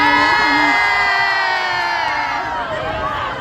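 A crowd at a promotional fan event cheers and shouts loudly in unison. The voices are dense and steady, with high-pitched calls rising above the mass throughout.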